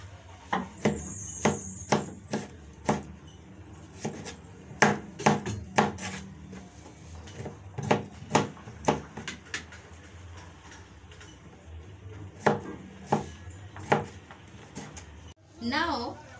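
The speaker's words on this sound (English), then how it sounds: "Now you cut your vegetables into dices." Peppers and turnips are diced with a knife on a board, giving sharp, irregular chopping taps in quick clusters, close and distinct, with a few pauses between runs.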